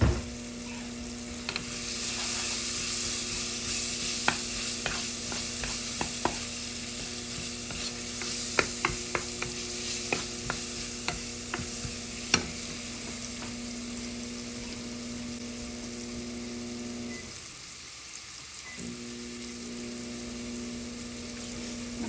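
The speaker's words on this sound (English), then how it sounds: "We're just going to saute these onions up and get them really good and caramelized." Onions sauté in a pan with a steady, close sizzle that runs throughout, broken by scattered light clicks of stirring and a brief dip near the end.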